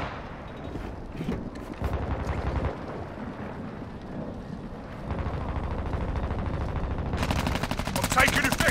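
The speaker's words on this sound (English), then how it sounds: "I'm taking effective fire!" Gunfire crackles through a Modern Warfare 2 Resurgence endgame match, steady bursts carrying on for several seconds and growing denser and louder toward the end, with a dense crackling burst near the close.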